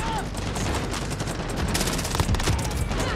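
Gunfire rattles through a Modern Warfare match, dense bursts of automatic shots crackling nearby over a rumbling battle background, growing sharper toward the end.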